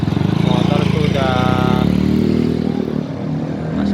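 A motorcycle engine hums and revs steadily close by as it rides through a flooded road, with someone talking over the engine noise throughout.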